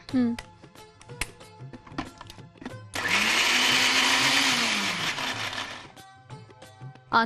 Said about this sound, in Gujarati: હવે આપણે મિક્સર જારમાં લઈને એની ગ્રેવી કરી દઈશું.